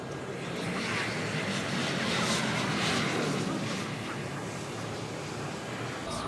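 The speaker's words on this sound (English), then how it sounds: "So they're still letting planes land." A distant jet engine roars steadily, swelling and then easing as a landing airplane passes, with faint background murmur.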